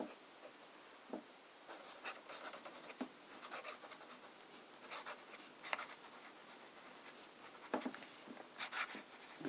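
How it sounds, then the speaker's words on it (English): Fountain pen nib scratching across paper with Noodler's Liberty's Elysium ink, faint close-up bursts of fine writing strokes in irregular clusters, quiet and alone. "let us start with some fine writing."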